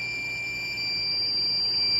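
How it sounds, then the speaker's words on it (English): A steady, high-pitched electronic alarm tone sounds continuously from a homemade 60-volt battery generator powering an air fryer, loud and close over a faint background hum, with no talking. "I bet you that alarm shuts right back off because the battery, I don't believe that's a low battery alarm. I think it's the output voltage alarm."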